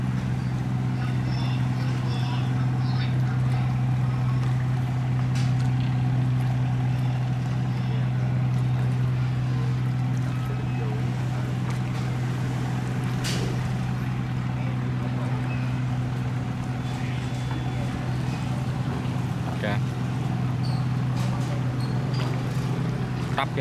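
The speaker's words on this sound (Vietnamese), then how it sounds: "Mấy chiếc ghe thu mua đi về đó các bạn." Produce-buying boats motor along a river, a continuous low engine drone humming steadily throughout at moderate distance, with faint scattered background noises over it.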